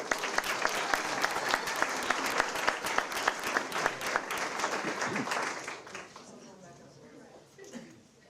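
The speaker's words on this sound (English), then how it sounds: "a huge round of applause" An audience at a school board of education meeting gives the pianist a hearty round of applause, a dense steady clapping that fades out after about five seconds, leaving a quiet room.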